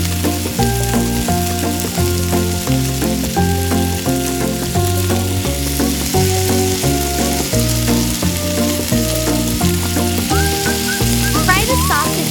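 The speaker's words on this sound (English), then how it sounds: "Continue to add sausage to the pan with boiling oil." Sausage fries in boiling cooking oil in a tiny miniature kitchen pan, giving a steady sizzle that sits beneath loud, cheerful background music throughout.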